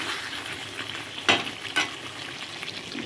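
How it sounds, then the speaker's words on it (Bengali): Mutton sautéing in a pan hisses in a soft continuous sizzle, close and quiet, punctuated by two sharp stirring clatters of a spoon against the pan. "এখনো কষানো চলছে, এখন কষানো হয়নি পুরো কমপ্লিট"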